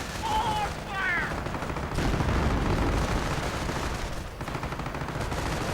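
Rifle and machine-gun fire crackles through a WWII real-time strategy battle, a dense continuous fusillade of rapid shots with heavier booms mixed in and brief voice cues.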